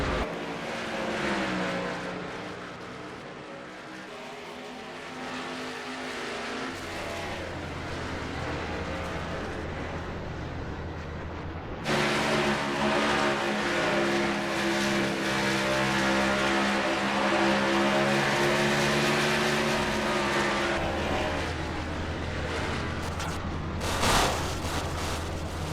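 Race cars roar around the night Bristol short track in the NR2003 racing game during a green-flag restart with three laps left, a loud, continuous engine drone that shifts pitch as the pack accelerates, with no talking.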